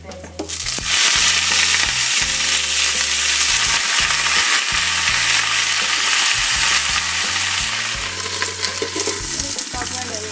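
Dry chili and basil fry in a hot pan with a loud, continuous sizzle and crackle, joined by repeated stirring scrapes throughout; no one speaks.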